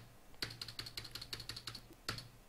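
Keys on a computer keyboard clatter in a quick run of about a dozen light taps, then one isolated press after a short pause. The typing is close and faint over a quiet room, with no talking.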